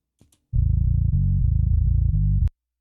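A bass-heavy guitar with a distortion effect blended in plays a chugging, sustained run of notes for about two seconds, loud and close, then cuts off abruptly.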